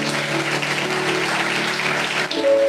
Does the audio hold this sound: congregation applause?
yes